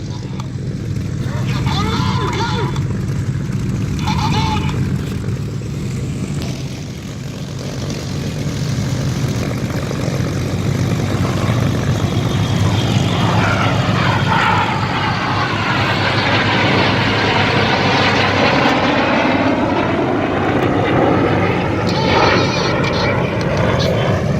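Red Arrows display jets fly corkscrew aerobatics at the Battle of Britain air show at Duxford in 2018, their engines a loud, sustained roar that sweeps and shifts in pitch as they pass, heard under continuous commentary from a voice on the public address.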